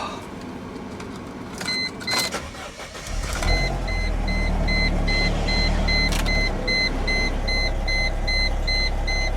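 The engine of a 2019 BMW 430xi Gran Coupe, in unhealthy condition, cranks with a few sharp clatters and then catches into a rough, steady idle. A repeating electronic chime beeps evenly above the running engine.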